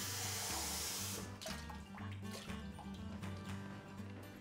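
Cold water is poured into a bowl of slaw dressed with apple cider vinegar, a brief rushing splash at the start that fades into quieter trickles and drips under a low background hum.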